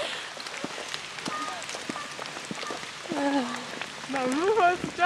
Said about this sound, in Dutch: het gaat weer harder regenen